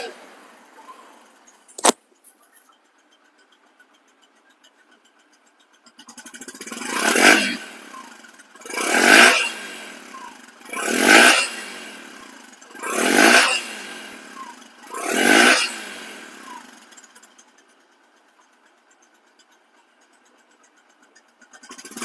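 A Bajaj Platina 110cc motorcycle, a second-hand bike, has its engine revved five times in a row, each a swelling and fading rise of sound, after a sharp click and a quiet pause.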